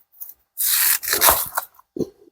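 A knife slices through a greater yam (kachil), giving a rasping, scraping cut about a second long, then a second shorter crunching stroke, and a brief low knock at the end. The sounds are close and fairly loud, with no talking.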